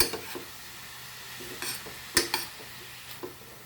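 Cumin seeds and chili stirred in a hot pan for a radish bhaji: a soft sizzle with several scattered scrapes and taps of a spoon against the pan, close but quiet.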